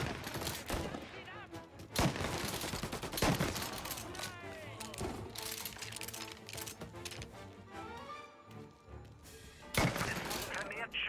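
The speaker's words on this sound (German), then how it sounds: "Vermehrt Schüsse gemeldet." Rapid bursts of gunfire ring out in the video game Mafia: Definitive Edition, with loud clattering volleys and sharp individual shots stacking up over a dense in-game soundscape, with voices mixed in.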